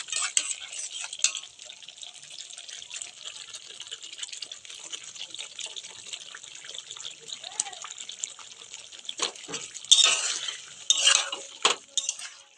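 Eggs are added to a browned korma masala in a pan and stirred in. Soft, steady sizzling runs under intermittent scraping and clinks of a utensil, and a voice is heard over it.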